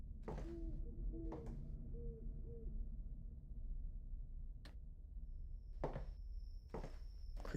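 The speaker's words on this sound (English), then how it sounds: "creepy owl sounds." Creepy owl hoots in a horror video game, several soft low calls early on, then sparse ticks and scattered clicks over a quiet ambient hum, with a thin steady tone near the end.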